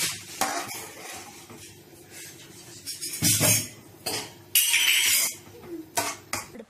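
A spoon stirring carrot halwa with milk in a pan, heard as intermittent metallic clinks and scrapes against the pan, some soft and some louder, in uneven bursts with quiet gaps between.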